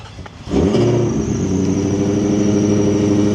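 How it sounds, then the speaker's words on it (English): A Ford Raptor's engine cranks and fires up with a squeal, a quick start at about half a second followed by a loud, steady idle with a whining, squealing tone held to the end. "When I start this thing, it's squealing and doing all this weird stuff."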